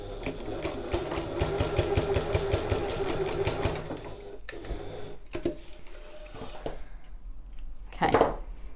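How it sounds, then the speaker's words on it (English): A domestic sewing machine runs in a fast steady burst for about four seconds while stitching across the short end of a satchel, then stops, leaving quiet handling clicks and rustles. "we're going to sew across this short end, same as we did before"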